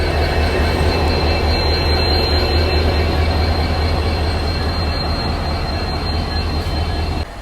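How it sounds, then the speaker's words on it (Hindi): Diesel-hauled Kanchanjungha Express passenger train pulling away after a stop, a loud, steady low diesel drone with a constant rolling rumble and a high tonal whine running underneath. "तो लगभग 17 मिनट के स्टॉप के बाद अब अपनी ट्रेन जो है आगे की तरफ चल पड़ी है।"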